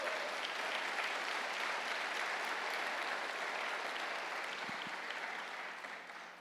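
Congregation applause at an evangelical church service, sustained and even clapping from a large crowd that holds steady for several seconds before tapering off at the end.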